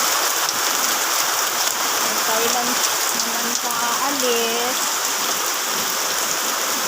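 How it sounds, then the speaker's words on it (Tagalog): Heavy rain pours steadily and loudly onto surfaces, with runoff flooding down from above along the side, while people talk quietly beneath the downpour. "Malakas ang ulan."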